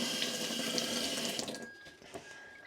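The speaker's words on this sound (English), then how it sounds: "change the water every now and then until the water runs clear, just running clear" Tap water runs into a sink while dyed viscose socks are rinsed, a close, steady splashing stream that thins out and trickles after about a second and a half.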